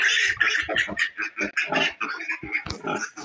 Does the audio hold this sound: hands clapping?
no